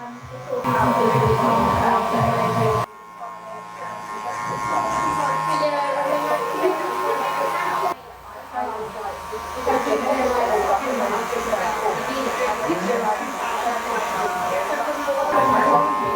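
Electric hair clippers with an adjustable lever and a number 1 guard buzz steadily while cutting a short men's textured fade. The loud, continuous drone breaks off briefly twice, and a voice talks over it.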